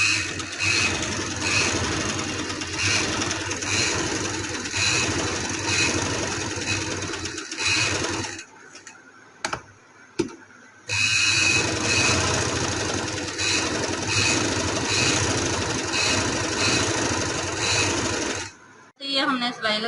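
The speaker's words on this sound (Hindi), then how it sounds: "मैं आपको सिलाई लगा कर दिखाती हूँ।" A sewing machine runs continuously while stitching fabric during neckline sewing, a steady mechanical whir that pauses briefly partway through and then resumes at full speed until near the end.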